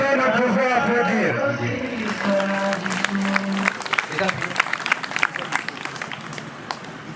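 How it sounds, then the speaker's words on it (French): Guests at a Congolese customary wedding clap after a prayer, the applause rising over lingering voices and then continuing as scattered, uneven hand claps. "Est-ce que nous pouvons applaudir?"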